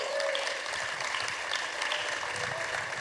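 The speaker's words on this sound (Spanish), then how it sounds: "Denle un aplauso al Señor" A church congregation applauds in a sustained, even roar of many clapping hands, fairly soft and distant-sounding, with a faint voice briefly audible at the start.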